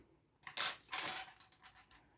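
Small metal tweezers and thin manicure scissors clink and tap against each other in a few quick, light contacts, close by in a quiet room.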